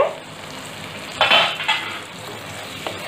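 A dry curry of parval, or pointed gourd, is stirred in a pan, giving a soft sizzle with a few louder scraping sweeps of the spoon midway.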